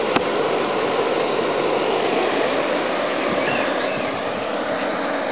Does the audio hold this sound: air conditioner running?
yes